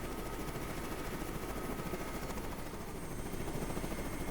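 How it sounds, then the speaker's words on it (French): Faint, steady whirring drone of a helicopter in flight, continuous and unchanging throughout, with no voices. "Alors ce matin, tu es pilote d'hélicoptère, Martin"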